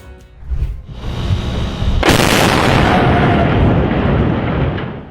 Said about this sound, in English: After a controlled explosion,